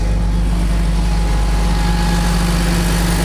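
A wrecker truck's engine running steadily in freezing cold weather, a loud continuous low idling drone with a constant hum, heard alone without talk.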